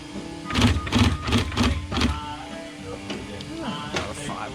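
A sewing machine stitching a boat cover for a Reinell boat, running in a few rapid mechanical bursts of steady whirring and clattering up close, then easing off, with a faint voice at times.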